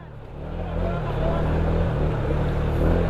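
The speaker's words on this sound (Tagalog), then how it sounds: "Lakas ng agos, grabe." Strong water current rushing at Zamora Falls in Bulacan, a steady broadband roar that swells after the first second and stays loud and close throughout, with a low continuous rumble underneath.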